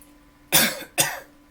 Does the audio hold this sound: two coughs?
yes